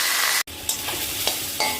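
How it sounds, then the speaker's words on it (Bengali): Drumstick leaves frying with salt in a kadai, a loud hissing sizzle broken by a brief cut, then several scraping stirs against the pan, close and alone. "একটু লবণ দিয়ে নাড়িয়ে নিচ্ছি।"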